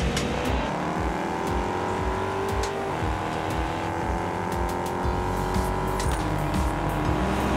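A Ford Mustang races in Test Drive Unlimited Solar Crown, its engine droning steadily with gear-shift dips in pitch, continuous and loud, with occasional tire squeal and no talking.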